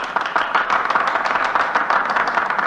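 Applause from senators fills a Senate chamber in a dramatized radio scene, a steady, dense clapping from a crowd that holds evenly throughout with no speech.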